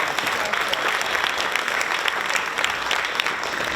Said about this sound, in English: Everyone, yes, give her a round of applause.